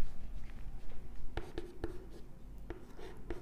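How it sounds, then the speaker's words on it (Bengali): A pen writes a math formula on paper, giving soft continuous scratching broken by several sharp taps and short strokes, close and fairly quiet with no talk. "ফর্মুলাটা আমি লিখছি"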